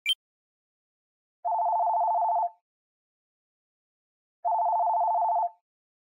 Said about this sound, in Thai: ได้มีสายโทรศัพท์ปริศนาได้โทรเข้ามานะครับ